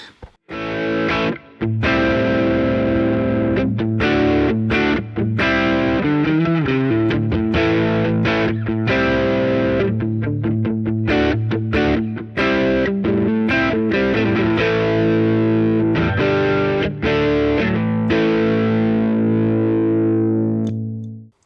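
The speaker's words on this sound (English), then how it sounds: "I like to switch in and out distortion pedals depending on my move" Thick, overdriven electric guitar through distortion pedals plays continuously, gritty distortion on sustained chords and riffs, loud and close with no voices.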